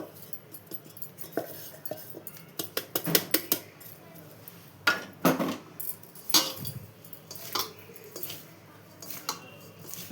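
Ground curry leaf spice powder being mixed in a bowl, with irregular clinks and scrapes of a spoon against the dish over soft rustling.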